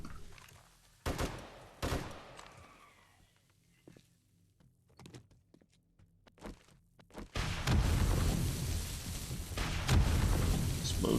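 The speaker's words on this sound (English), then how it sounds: "Explosions." Sharp bursts of gunfire and booming blasts in the video game 7 Days to Die, scattered at first, then building into a dense, loud barrage of explosions and shooting.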